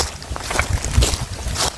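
Blustery wind buffets the microphone in uneven gusts, a low rumbling roar with brief louder surges throughout.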